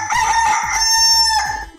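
A rooster gives one loud, close cock-a-doodle-doo crow, rising and held for under two seconds, with nothing else heard.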